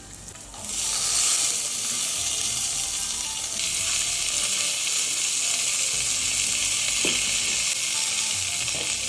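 Garlic and lentils sizzle steadily in a hot pan, a loud, continuous frying hiss that swells up after a quiet start and holds, with occasional faint stirring scrapes.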